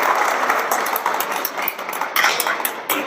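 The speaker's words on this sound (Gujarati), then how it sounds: "જોરદાર તાળીઓથી વધાવજો." An audience claps warmly at a school felicitation for Class 10 board exam results at Shri Valam School, a dense, continuous patter of hands with uneven swells.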